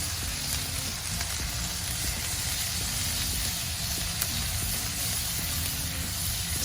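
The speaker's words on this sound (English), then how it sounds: "we're going to add each one of the balls to the cast iron, give them a little bit of space, let them cook" Beef balls for Oklahoma onion smash burgers sizzle steadily on a hot cast iron, seasoned with beef rub; a dense, continuous frying hiss with faint crackles, close and unbroken, with no one talking.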